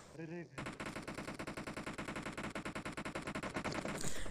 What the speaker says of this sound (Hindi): वहाँ से खड़े होकर हम पे लगातार फायरिंग करने लग जाते हैं